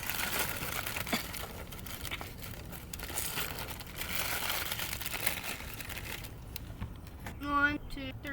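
Plastic wrapping around the soil discs of a herb garden kit crinkles and tears in close, uneven bursts as it is pulled open, followed by a short clatter near the end.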